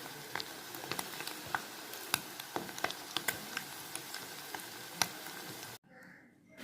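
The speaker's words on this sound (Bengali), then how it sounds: "পনিরগুলোকে আমি একটু হালকা করে ভেজে নিচ্ছি" Paneer cubes lightly frying in a home kitchen pan, a steady close sizzle with scattered sharp pops and crackles that runs without a break and then stops abruptly near the end.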